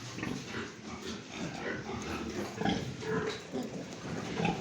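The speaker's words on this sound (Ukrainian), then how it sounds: "Ось такі поросятка" Newborn piglets grunt and squeal continuously close by, a busy overlapping chorus of small oinks with no talking.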